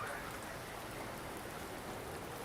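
Rain falls steadily in the video game Wuthering Waves as an even, dense hiss of drops that stays soft and unbroken, with no voices over it.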